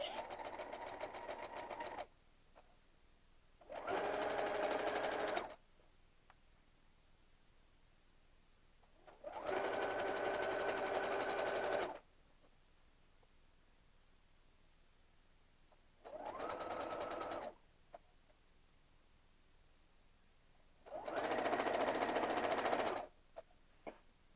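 A sewing machine stitches fabric about a quarter inch from the raw edge, running in four bursts of a few seconds each with quiet pauses between them. The whir is close and steady.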